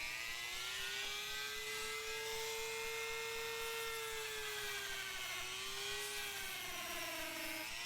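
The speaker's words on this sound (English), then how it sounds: "And then I set to work with the Dremel tool." A Dremel rotary tool fitted with a drum sander whines at a high, steady pitch while shaping a handmade knife, the tone dipping slightly near the end under load; no voices.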